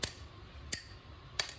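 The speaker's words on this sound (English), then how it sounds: "that's the sound of the water hitting the glass without any air cushion inside" Three sharp metallic-sounding clicks spaced evenly apart from a glass water hammer, water sealed in a vacuum glass tube striking the glass, crisp and close.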